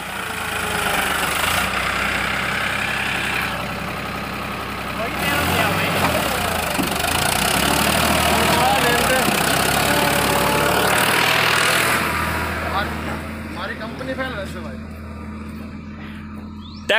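A Farmtrac 60 Powermax tractor pulling a trolley runs with a steady, rumbling mid-low engine drone that swells and eases, heard amid a noisy outdoor crowd, with people talking and shouting throughout.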